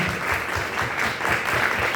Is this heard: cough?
no